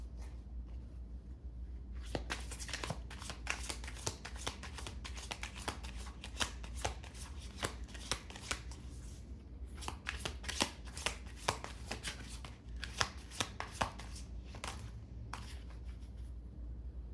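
Tarot cards shuffled by hand, a quiet room filled with repeated riffling bursts and soft flicks in an uneven rhythm over a low steady hum; no speech.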